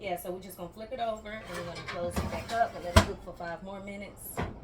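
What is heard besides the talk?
No everyday noises stand out.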